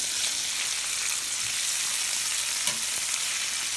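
Bacon fries on a Blackstone griddle with a loud, continuous sizzle and crackle, plus a couple of faint scraping knocks near the end and no voices.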